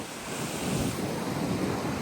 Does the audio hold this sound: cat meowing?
no